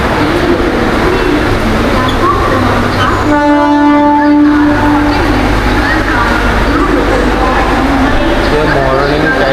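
A train at Vashi railway station in Mumbai roars loudly and continuously close by, with a long tonal horn sounding partway through over the heavy rumble of rail cars, and a voice talking underneath.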